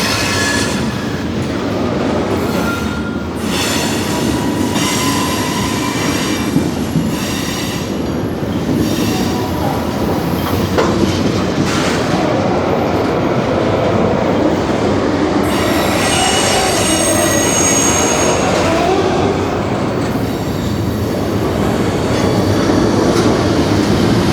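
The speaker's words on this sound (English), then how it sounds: "That was a long train." A long train rumbles past close by near the Bergen Arches in Jersey City, steady loud clatter of wheels with occasional metallic squeals, continuing without a break.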